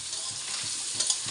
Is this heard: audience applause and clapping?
no